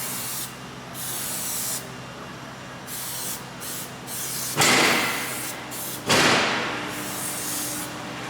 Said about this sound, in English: I want to spray glue along this sill here